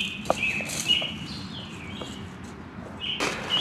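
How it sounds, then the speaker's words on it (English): Small birds chirping outdoors: faint, high tweets and short calls, some slurred, recurring at a distance over a soft, steady background hiss. "Better yet, can you hear the birds?"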